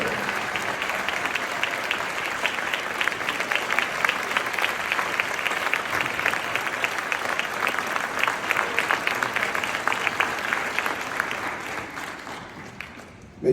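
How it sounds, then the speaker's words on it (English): A standing audience at a memorial gathering applauds the first lady, steady dense clapping lasting over ten seconds before tapering off at the end. "Give her a round of applause."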